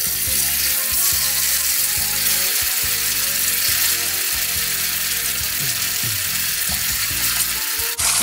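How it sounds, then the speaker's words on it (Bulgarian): Peppers fry loudly in a hot pan, a dense, continuous sizzle with crackling spatter and scraping knocks of a utensil throughout, close and without talk. "И сега добавяме чушките."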